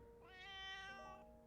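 A kitten meows once in a long, drawn-out, clear cry inside the Piofiore video game, rising and holding before trailing off, heard alone with no talk over it.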